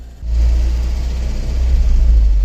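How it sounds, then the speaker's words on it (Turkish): An Opel Vectra engine idles loudly and close with a fault, its low rumble rising and surging unevenly in speed without any throttle blips. "Gaza falan basmıyoruz. Rolanti çıkıp çıkıp iniyor."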